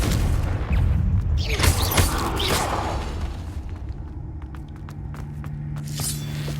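A Confringo fire spell bursts in Hogwarts Legacy during a fight with a giant spider, a loud booming blast with crackling rumble that trails off into a steady low drone and scattered clicks.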